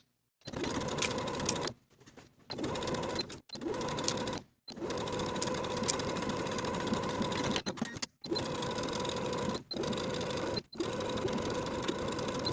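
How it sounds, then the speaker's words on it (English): A sewing machine stitches a jumpsuit seam, running back over the first line of stitches to reinforce it. It whirs steadily in close, loud bursts of one to three seconds, separated by short pauses. "stitch that same section once again over your initial stitching to reinforce this section"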